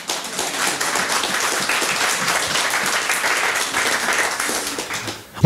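A church congregation applauds the Lord in a sustained, dense round of clapping that holds steady and fairly loud for several seconds before breaking off.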